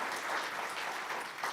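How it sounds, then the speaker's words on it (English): Brief, fairly faint audience applause for a panel at an evening talk, dense clapping with no voices. "So give a round of applause for our panel."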